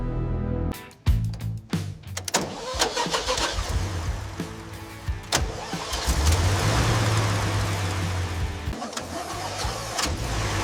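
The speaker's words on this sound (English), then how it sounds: "idles with the deep rumble only a true classic can produce." A 1978 Toyota Land Cruiser FJ45 pickup engine cranks briefly, catches with a loud burst, then settles into a steady, deep rumbling idle close by.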